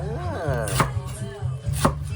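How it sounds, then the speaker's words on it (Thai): A kitchen knife chops through cabbage on a cutting board while preparing a fish hotpot dish, giving two sharp, close knocks about a second apart over a light background of sliding and handling noise. "เราก็จะหั่นเตรียมไว้รอนะครับ"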